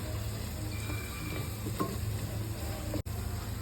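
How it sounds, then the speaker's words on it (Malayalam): Chicken thigh pieces stirred with coriander powder in a hot pan, a steady close sizzle with soft scraping and stirring throughout and a brief break near the end. "അപ്പോൾ ഇത് ഇത്ര ഇട്ടിട്ട് നമുക്ക് നന്നായിട്ട് ഒന്ന് ഇളക്കി കൊടുക്കണം"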